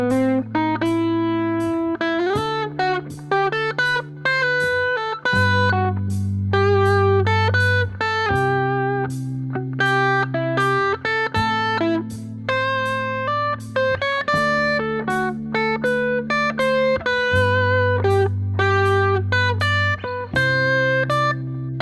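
Electric guitar plays a flowing melodic solo line of single picked notes over sustained backing chords, moving across positions in a steady, unhurried phrase, close and continuous with no talking.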